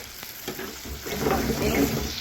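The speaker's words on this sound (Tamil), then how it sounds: "இப்போ பார்த்தீங்கன்னு சொன்னால் இந்த கத்திரிக்காயெல்லாம் வடிவாக பொரிஞ்சு வருது" Eggplant pieces fry in hot oil with a steady close sizzle and crackle, swelling slightly louder toward the end, with no talking.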